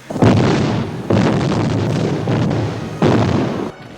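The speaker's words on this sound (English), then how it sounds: "We had multiple angles of all these huts exploding" Jungle huts blowing up as special effect explosions in the 1985 action film Rambo 2, three loud, close, broadband blasts in quick succession, each leaving a long roaring rumble.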